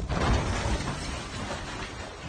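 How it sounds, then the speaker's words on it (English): A freshly found bomb detonates in Colombo, Sri Lanka, as authorities try to defuse it: a heavy blast with a shattering crack, then a rumbling roll that slowly fades at a distance. "freshly found bombs detonated as authorities tried to defuse them"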